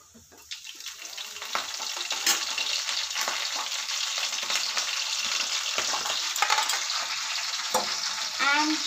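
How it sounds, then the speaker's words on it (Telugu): Curry leaves hit hot oil with chillies already golden, bursting into a close, steady sizzle and crackle with scattered sharp pops and a few stirring scrapes, running continuously without speech. "ఆ తర్వాత నేను కరివేపాకు వేసుకుంటున్నా."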